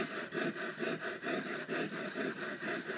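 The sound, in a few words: serrated knife rubbed back and forth on ceramic rod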